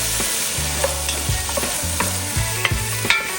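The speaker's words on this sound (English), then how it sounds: "I'll put the chopped andouille sausage in here" Chopped andouille sausage sizzles in a pan over lowered heat as its fat renders, a close, continuous crackling fry broken by a few stirring clicks and scrapes, with no voices.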